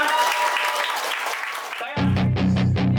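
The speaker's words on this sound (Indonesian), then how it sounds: "Oke, tepuk tangan buat kalian semuanya" A group at a one-day English and character camp at a villa claps together, a loud wash of applause that gives way after about two seconds to a pop song with singing.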